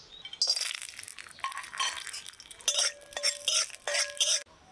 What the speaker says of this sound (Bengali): কাজু কিশমিশগুলো ভেজে নেব।